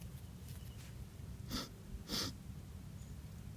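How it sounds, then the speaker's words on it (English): Two short, close nasal sniffs, one after the other, as someone smells scratched sticky plant leaves outdoors against a faint background hum. "Now I'm going to do a little scratch and sniff."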